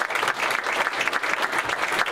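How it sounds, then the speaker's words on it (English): Dense, steady applause from an audience on its feet at a Christmas party, many hands clapping together in a continuous wash with no pauses and no voices standing out. "round of applause for these ladies and gentlemen"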